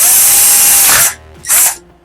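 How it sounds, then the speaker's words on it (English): A power drill bores into a wooden lid for a grain jar in two loud, close bursts, one about a second long and a shorter one after a brief pause. "I stick the drill bit in the hole"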